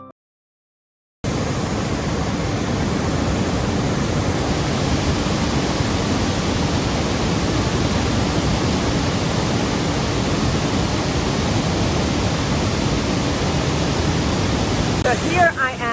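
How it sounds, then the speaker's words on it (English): Rushing water of the waterfall at Trent Falls, a loud, steady broadband roar that starts abruptly after a second of silence and holds unbroken to the end. "The water rushing is such a powerful sound, totally mesmerizing and beautiful."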